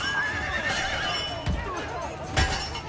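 A horse neighs and whinnies in the video game Assassin's Creed Brotherhood, a drawn-out wavering call with a couple of hoof thuds beneath it, set against game ambience.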